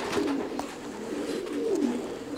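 Pigeon cooing, a nervous cock bird with a glass eye, in a Polish fancy pigeon loft; two rolling, wavering coos sound close and steady over a faint background hum.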